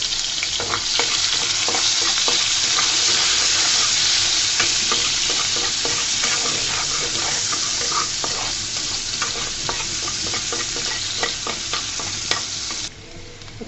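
Chopped onion and garlic fry in soybean oil for a water spinach dish, giving a loud, continuous sizzle with frequent scraping stirs of a spatula throughout; no one speaks.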